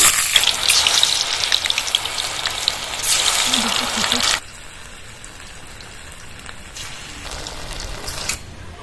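Sabudana (sago) pakoras deep-frying in hot oil crackle and hiss with a steady, bubbling sizzle, louder for the first few seconds then quieter, while someone talks over it.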